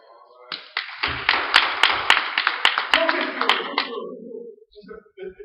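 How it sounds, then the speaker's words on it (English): A church congregation claps hands in praise during Sunday morning worship: a burst of sharp, fairly rhythmic claps over several seconds, with voices calling out beneath and tapering off into brief speech at the end. "Give him a hand clap of praise for that."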